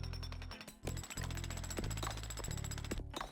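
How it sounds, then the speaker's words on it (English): Upgraded jackhammer in the cleaning game Sludgineers, a loud, close, continuous mechanical rattle that drops out briefly near the start and then hammers on steadily. "Really tell that there's a big increase in the power"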